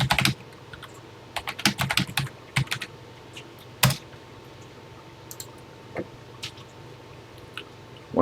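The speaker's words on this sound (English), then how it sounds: "I'm typing these programs in exactly as written" Keys on a Texas Instruments TI-99/4A computer keyboard are typed close by, in uneven bursts of quick clacks broken by short pauses, over a faint steady hum.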